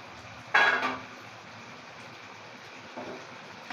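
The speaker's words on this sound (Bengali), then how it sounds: "মা ঢাকাটা খুলছে" A lid comes off a kadai of hilsa fish with a sharp metallic clank, followed by a fainter second clink a few seconds later against a quiet kitchen background.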